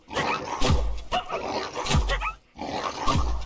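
Aggressive wolf in the CardLife video game, growling and snarling in three low, rough bursts with brief gaps between them, close and fairly loud.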